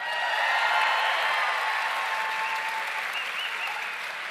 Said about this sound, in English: could you please put a massive round of applause together for TJ Kilcannon, Dermot Flanagan, and James Nallen